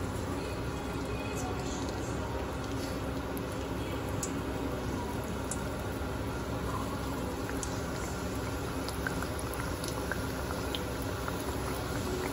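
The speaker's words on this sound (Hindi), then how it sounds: "आतां हांव घाता एक एक नेवरी भाजपा" Goan rava nevri frying in hot oil in a kadai, giving a steady, even sizzle and bubbling that stays constant throughout with no talk over it.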